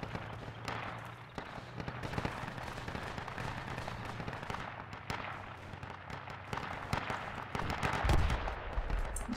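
Artillery area-attack barrage in the Project Reality mod for Battlefield 2, with dense crackling blasts and booms rolling continuously, a heavier low thump near the end.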